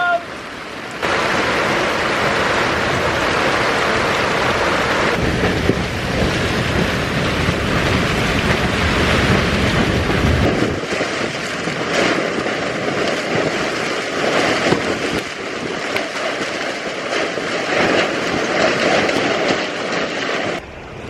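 A storm at sea on a first boat trip sends strong wind and rain roaring over the vessel, a loud continuous rush that briefly surges harder before easing, with no clear speech.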